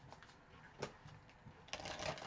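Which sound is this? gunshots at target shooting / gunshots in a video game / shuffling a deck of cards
shuffling a deck of cards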